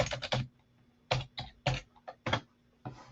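Keys clattering on a computer keyboard as a search word is entered into a design app, five or six quick bursts of close taps separated by short pauses, with no talking over them.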